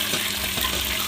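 Tomatoes are frying in a pan with oil, ghee, mustard seeds and onion for Sunday biryani, a loud continuous sizzle with steady crackling and faint stirring, close up and without voices.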